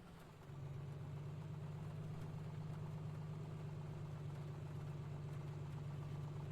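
A light aircraft engine catches just after start with magnetos on both and mixture rich, then settles into a steady, droning idle with a strong low hum, close and unbroken and with no talk.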